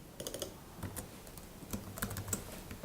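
Typing on a computer keyboard while entering button text in App Inventor, quick irregular clusters of soft key clicks close by, quiet and without talk.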